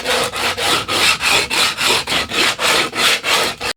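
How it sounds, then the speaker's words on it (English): Steady back-and-forth rasping of a bow sander on wood, about fourteen even strokes in quick rhythm, close and loud with no voices. "This is a bow sander?"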